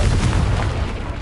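A Confringo blasting spell explodes in Hogwarts Legacy, a single loud, close booming burst with a dense rumble that fills the clip and fades only slightly toward the end.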